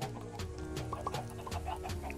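Chickens cluck in the Minecraft video game, a few short calls popping out over a steady bed of game music and ambient sound, moderately close and fairly quiet.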